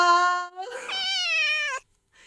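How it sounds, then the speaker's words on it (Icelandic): A cat meows close up in two clear, drawn-out cries, the second longer and rising, with a short trailing sound after a pause. "Þetta er kisa. Eða köttur."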